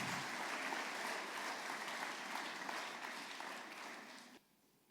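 A congregation at a thanksgiving church service gives a sustained round of applause, a dense patter of many hands clapping together before it cuts off sharply near the end.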